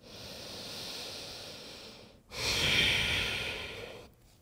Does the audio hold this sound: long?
yes